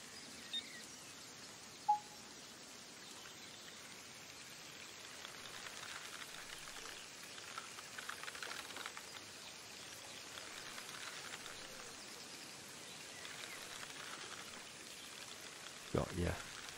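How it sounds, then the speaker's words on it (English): Rain falling in the Fishing Sim World video game at a carp lake, a soft, even patter throughout, faint and steady, with a couple of brief clicks. "this rain certainly makes these carp more livelier."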